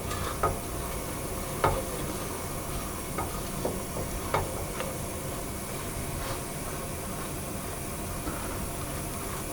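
Flaked almond praline topping cooks gently in a pan with a steady low sizzle and hiss, broken by a few faint scattered clicks and pops.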